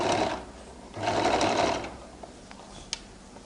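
A sewing machine stitches a flared skirt seam in two steady bursts of running, each about a second long, with quieter gaps and small clicks between them, close and clear.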